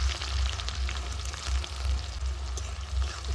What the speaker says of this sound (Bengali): পেঁয়াজগুলো এখন খুব ভালো করে ভেজে নেব